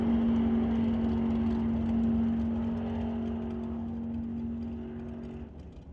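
A drag race car making a solo pass down the track, a strong steady engine whine heard from a distance that holds, then slowly fades as the car pulls away.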